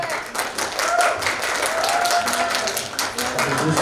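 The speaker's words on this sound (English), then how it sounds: "please give applause for group" Audience at a youth summit applauding a group presentation, brisk clapping with distinct individual claps, close and moderately loud, with some voices mixed in.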